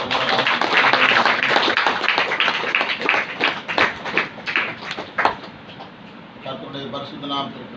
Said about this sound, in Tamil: அத்தனை பேரும் கைத்தட்டி தேவனை மகிமைப்படுத்தலாம்